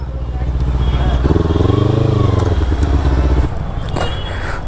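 A Honda CB300R motorcycle with a loud aftermarket exhaust idles and revs nearby, a deep throbbing engine rumble that swells in the middle and settles back to a steady burble, with a voice heard over it.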